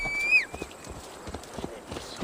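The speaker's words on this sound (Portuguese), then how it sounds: "Vamos vir aqui até os cavalos." Horse hooves trotting in the video game Assassin's Creed Valhalla, a quick run of soft, evenly spaced clip-clop footfalls, moderately near, with a brief high whinny-like tone near the start.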